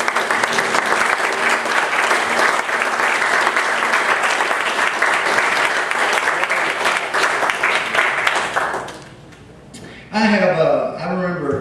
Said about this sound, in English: Give them a hand clap of praise.